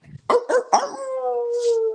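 A dog gives three sharp barks in quick succession, then breaks into a long, sustained howl that holds and wavers, loud and close with no speech.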